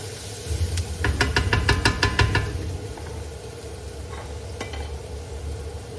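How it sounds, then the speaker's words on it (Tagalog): Chicken adobo with garlic and onion cooking in a pan, a steady close sizzle with a quick run of sharp utensil taps and scrapes early on, then a few scattered clicks over the ongoing hiss. "niluluto ko na yung ating adobo"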